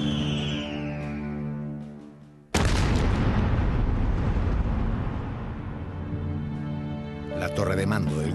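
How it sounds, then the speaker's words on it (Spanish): A sudden deep boom like a cannon blast erupts after a quiet musical stretch, followed by a long roaring rumble that fills the rest. "Huáscar estalla pulverizada por un disparo."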